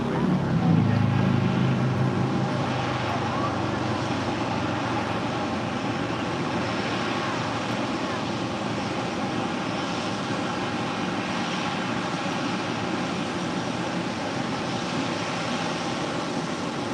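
An aircraft rolling for takeoff on runway 25 right at LAX, heard as a steady, loud broadband engine roar that holds evenly throughout, with a brief voice near the start.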